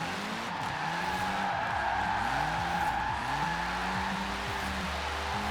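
A mid-engine Alpine sports car with all-wheel drive drifts in the video game Forza Horizon 4. A steady engine drone runs under repeated swooping tire squeals, each rising and falling, loud and continuous with no talk.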